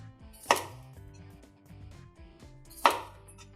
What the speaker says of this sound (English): I'm going to cut them into about 1-inch pieces, 1-inch rings